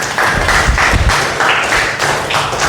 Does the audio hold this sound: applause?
yes